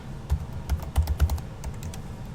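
Username and password typed on a computer keyboard, a short burst of soft close key clicks in an uneven rhythm lasting about two seconds.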